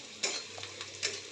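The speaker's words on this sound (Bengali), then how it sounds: "এখানে দেখো পেঁয়াজটা আগে ভেজে নিচ্ছি।" Onions frying in oil with bay leaf and white cumin for prawn malaikari, a soft sizzle with a few stirring scrapes against the pan, close by and without talk.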